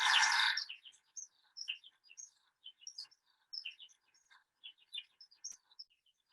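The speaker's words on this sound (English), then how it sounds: "one of them I'll start off with is the skylark." A skylark calls outdoors with a long run of quick, bright chirps and trills, distant and moderately faint, after a brief rustle at the start.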